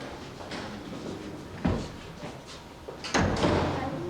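A door at Colonial Williamsburg, Virginia is closed, with two dull thumps of the door shutting amid a roomy background hiss, the second louder than the first.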